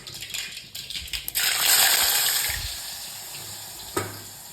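Elephant foot yam hits hot tempering oil in a pan, a burst of hissing sizzle that rises sharply, then slowly fades, with a small clink near the end.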